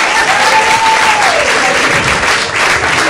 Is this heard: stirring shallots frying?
no